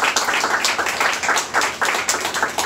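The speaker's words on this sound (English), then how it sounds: "Let's have a nice round of applause for all of our storytellers tonight" A live audience claps for storytellers at an evening storytelling show, a dense, steady burst of many hands close by with no talking over it.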